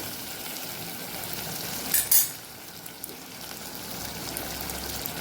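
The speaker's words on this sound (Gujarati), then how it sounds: "બેથી ત્રણ મિનિટ સુધી આપણે શાકને આવી રીતે આવી જ રીતે આપણે પાકવા દીધું છે" Kathiyawadi-style potato curry cooks in a pan with a soft, continuous sizzle and bubbling, broken by a couple of quick clinks or stirring sounds near the middle; no one speaks.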